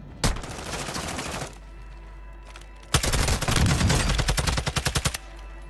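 TAC 56 assault rifle gunfire in Call of Duty Warzone 2: a loud sustained burst, a short pause, then a second rapid burst whose final shots ring out as distinct cracks.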